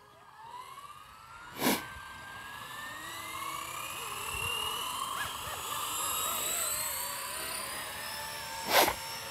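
Blade 230S RC helicopter in flight outdoors, a steady whining rotor and motor tone that rises and shifts in pitch, with two sharp thumps standing out over the continuous hum.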